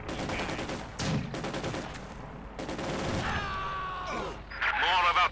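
Battle sounds in Company of Heroes 2 with bursts of gunfire and distant impacts, fairly faint beneath an ongoing commentator's voice.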